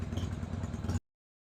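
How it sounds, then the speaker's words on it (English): A 1997 Harley-Davidson Sportster idles close by, its steady low throb and loping uneven pulses running for about a second before cutting off abruptly. "we're going to let her warm up here just for a moment and see if we can't get her to idle"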